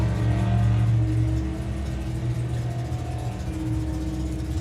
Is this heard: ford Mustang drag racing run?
yes